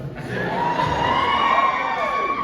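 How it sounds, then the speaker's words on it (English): A convention panel audience cheers and whoops loudly, a dense crowd roar with shouts rising and holding for a couple of seconds. "Why did I get an applause?"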